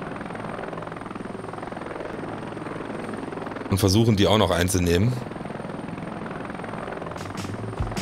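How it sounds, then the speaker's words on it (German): Helicopter from the video game Heliborne hums steadily in the background while someone speaks briefly over it midway. "der Heli kommt irgendwie nur so schwer in Gang"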